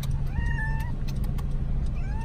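A pet cat meows repeatedly in rising, drawn-out cries inside a car on a drive, with a steady engine and road rumble underneath throughout.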